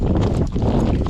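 Horses gallop on a ride through Caye Caulker, their hooves drumming in a quick, loud, close rhythm for about a second.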